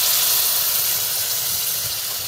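Coconut milk pours into shrimp masala in a hot pan for a shrimp malai curry, giving a loud, steady hiss with a low sputter that lasts the whole stretch, with no talking.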